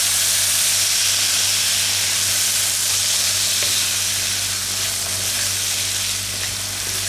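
French beans and peas hit a hot pan alongside kasuri methi in a paneer veggie medley, throwing up a loud, dense, continuous sizzle and hiss that holds steady, with a low hum running beneath it.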